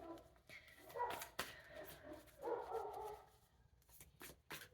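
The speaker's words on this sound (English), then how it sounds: "You can hear all the other neighborhood dogs" Several neighborhood dogs bark outdoors, a few scattered bursts and yips at mid distance over faint background noise, with no talking.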